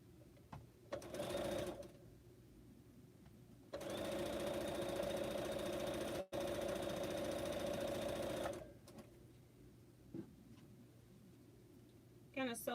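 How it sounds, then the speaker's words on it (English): A sewing machine stitches quilt fabric pieces in two loud, steady bursts of rapid mechanical whirring, with quiet gaps and faint clicks in between. "Gonna sew a couple of pieces on this set"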